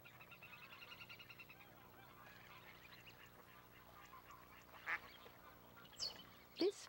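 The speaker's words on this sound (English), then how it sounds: "Mallards are the basis for almost all domestic ducks." Mallard ducks calling in a European wetland, a steady chorus of quacks and honking fowl with a few louder, sharper calls standing out near the end, no voices.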